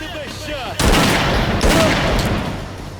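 Gunfire in the video game S.T.A.L.K.E.R.: Clear Sky, a sudden loud burst of rapid shots that keeps on as a dense rattling volley. A second burst follows, and a voice can be heard faintly before the shooting starts.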